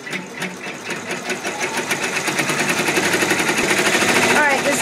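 A multi-needle embroidery machine sews satin stitches, giving a loud, steady rapid mechanical chatter that stays even and continuous throughout, with no talking.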